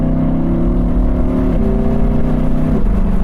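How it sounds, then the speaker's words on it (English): Audi R8 Spyder engine pulling under load in a high gear, a loud sustained droning growl that steps its pitch up in stages, heard from inside without speech. "So you don't have to be thrashing the engine to get some great noises out of it."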